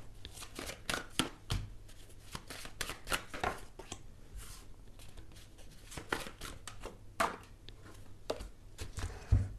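Tarot cards being shuffled and dealt, a steady run of crisp riffling snaps and soft slaps, close and moderately quiet, with no talking.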